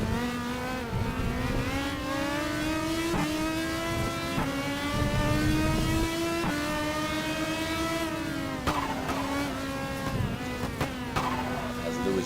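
An Orica FLM 09 prototype race car of about 1,000 horsepower accelerates in a Le Mans prototype racing video game, its engine note whining steadily upward and dropping at each gear change, loud and continuous throughout.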